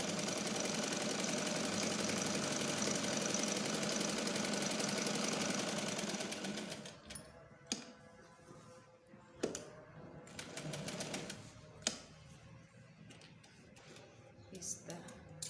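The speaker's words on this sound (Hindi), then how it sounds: "दूसरी तरफ से भी हम इसी तरह सिलाई लगा लेंगे।" An electric sewing machine stitches fabric for a child's kurta, whirring rapidly and steadily for about seven seconds before stopping, followed by scattered clicks and handling sounds as someone talks.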